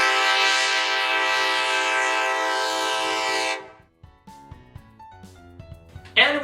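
Train horn blares loud and sustained with a rich harmonic chord for about three and a half seconds, then cuts off, leaving quieter clanks and rumbles.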